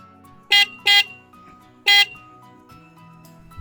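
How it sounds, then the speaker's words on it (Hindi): A Bajaj Pulsar NS400Z motorcycle's single horn honks three times, two quick blasts close together and then a third after a pause, bright and buzzy against a quiet engine background. "ये सिंगल हॉर्न सेटअप के साथ।"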